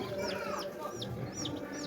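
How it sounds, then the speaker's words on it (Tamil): A Peruvidai country rooster clucks in quick, repeated calls close by, with a faint farmyard murmur underneath. "இதுதான் நம்ம செஞ்சேவல்."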